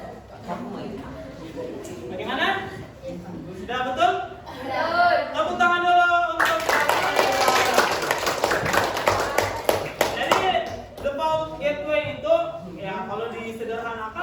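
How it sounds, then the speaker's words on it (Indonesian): A classroom of students breaks into a burst of hand clapping lasting several seconds, loud and close, with a teacher speaking before and after it. "Tepuk tangan"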